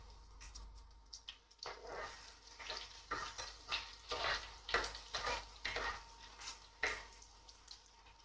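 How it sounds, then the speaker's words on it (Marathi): Crushed garlic dropped into hot oil for a spicy egg curry, crackling and sizzling in uneven bursts with stirring scrapes, close and fairly quiet. "तेल आपलं आता गरम झालेलं आहे. त्यात आपण हा चेचलेला लसूण घालूया."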